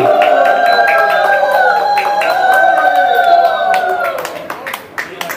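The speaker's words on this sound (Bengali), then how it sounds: "উলুধ্বনি এবং হাততালি" At a devotional Hare Krishna birthday celebration, a crowd claps loudly while wavering, high ululation calls ring out over the applause, which thins into scattered claps near the end.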